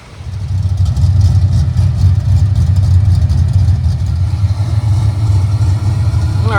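A Ford Mustang SN95 idles nearby with fresh oil, giving a loud, steady low rumble that holds even throughout, with no talk over it.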